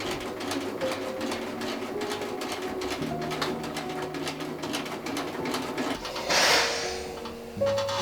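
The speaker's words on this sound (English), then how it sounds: "I think I can now top stitch this shut." A sewing machine top-stitches a placket shut, giving a quiet, steady mechanical whir with rapid needle ticking under faint background sounds, ending in a brief louder burst.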